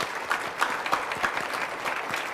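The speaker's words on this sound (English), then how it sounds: "Could we just give Betsy one more round of applause?" An audience at a county Board of Supervisors special meeting claps together in sustained applause with a steady, slightly rhythmic patter. It is moderately loud and continues without talk.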